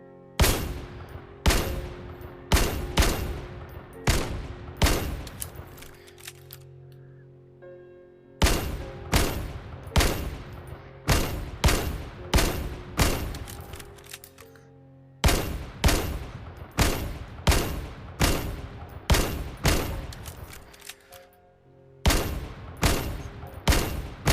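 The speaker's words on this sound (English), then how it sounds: "let's get to shooting" Pistol gunfire in the VR shooting game Vail rings out in rapid bursts of sharp, loud, close shots, several quick volleys separated by brief pauses, with no talking.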